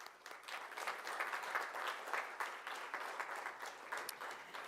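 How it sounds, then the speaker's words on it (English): Applause from a conference audience in Budapest, a moderately distant patter of many hands clapping with slight swells, continuous throughout and without talk. "Please give them a round of applause."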